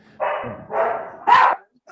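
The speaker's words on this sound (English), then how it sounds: "that's my dog" A dog barks three times in quick succession, loud and close indoors, each bark short and full.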